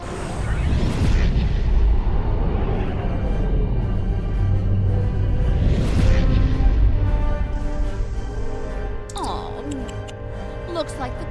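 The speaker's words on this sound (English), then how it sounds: "Tactical, target the lead cruiser and fire at will." Starship weapons fire on a cruiser in the Star Trek Online video game, heard as a sustained rumbling barrage with booming blasts and crackling energy bursts, loud and continuous, with voices speaking over the battle.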